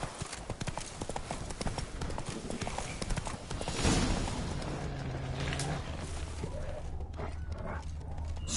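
Roach, Geralt's horse in The Witcher 3: Blood and Wine, gallops with rapid, close clip-clop hoofbeats that ease off partway through, joined by a brief whinny and creaking tack.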